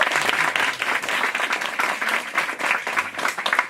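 A crowd at a Moth storytelling event answers with a round of applause, a dense, continuous clatter of many hands that swells and dips slightly and stays loud throughout.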